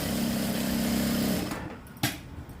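A sewing machine stitching blouse fabric runs with a steady, close mechanical whir for about a second and a half, then stops, followed by a single short knock.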